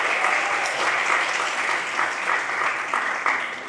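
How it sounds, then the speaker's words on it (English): Sustained audience applause at a secondary school keynote and competition award ceremony, steady and fairly loud throughout with no talking. "Let's give a round of applause to Mary Torrio"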